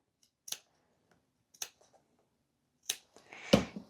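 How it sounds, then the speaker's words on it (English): Scissors make short 1/4-inch snips into a fabric seam allowance around a curve of a crescent moon bag: four separate close, crisp cuts with pauses between them, no talking. "we're just going to do it on the parts where we're going around the circle and just make like 1/4 inch snips every so"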